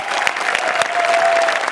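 Audience applause at a Marathi comedy show, a dense, steady clatter of many hands clapping close and loud throughout.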